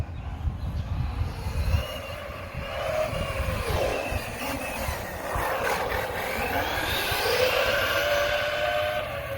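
A Redcat RC-MT10E compact 10th-scale electric RC truck, running on an old, weak LiPo, speeds along a street: a loud whining motor with a rising and falling pass-by sweep over steady wind and road rumble.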